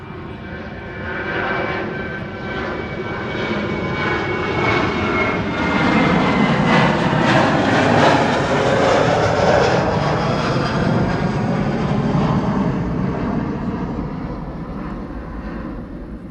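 A jet aircraft departs from Schiphol airport, its engine roar building to a broad, loud rush and then slowly fading over several seconds. It is heard from a distance, with no voices.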